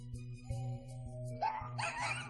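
Dog barks twice, each a short, sharp bark at moderate distance, over a steady background hum with a faint tonal whine.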